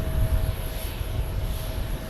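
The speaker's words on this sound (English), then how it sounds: "As I get some Jet Blast." An aircraft engine roars steadily at an airport, a loud, close, continuous blast of jet noise with a faint tonal whine running through it and no break in the sound.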